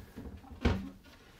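A single wooden thunk of a galley drawer sliding shut aboard a Beneteau Oceanis 30.1 sailboat, close and fairly loud, with a short rattle trailing off.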